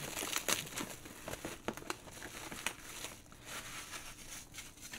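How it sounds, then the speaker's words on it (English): Extra plastic wrapping is pulled and crinkled off a handmade pop shield, giving soft, close crackling and rustling bursts that come and go. "Pull off the extra plastic."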